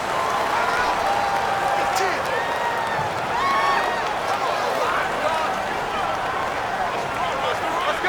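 Loud home-stadium crowd roar from Madden NFL 19 during a Miami Dolphins vs Cincinnati Bengals game, a dense, steady din that persists for the whole stretch, with voices blended into it.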